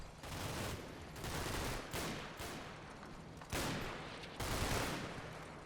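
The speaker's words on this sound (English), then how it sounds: "It's going to be a waste of a few mortar bombs." Repeated heavy blasts of mortar bombs in Combat Mission: Battle for Normandy, a run of broadband booms at irregular intervals over rumbling battlefield noise, fairly loud with no talk.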